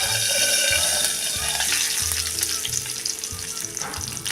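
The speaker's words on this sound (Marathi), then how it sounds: "त्यात आता टाकायचा आहे हा कढीपत्ता उडतो म्हणून हे पटकन असं झाकून घ्यावं" Curry leaves and asafoetida spluttering in hot oil in a pan, for a homemade goda masala amti without garlic, a loud continuous sizzle with crackling pops, close up and steady, with no talk.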